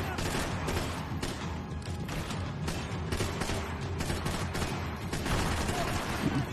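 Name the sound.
gunfire in a video game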